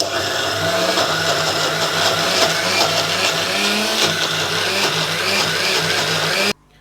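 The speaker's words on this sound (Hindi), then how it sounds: "अब हम जार को ग्राइंडर में लगाकर पीसना बताते हैं। आइए अब इसको पीसते हैं।" A loud, steady whirring motor of a mixer grinder grinding idli and dosa batter runs continuously for several seconds, then cuts off abruptly.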